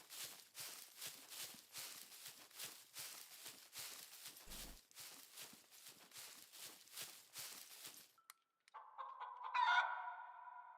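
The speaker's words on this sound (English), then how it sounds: "Oh, that chicken's loud." A chicken in the SCUM video game is heard among rhythmic footsteps crunching steadily, then a short pause before a loud, close clucking and squawking burst near the end.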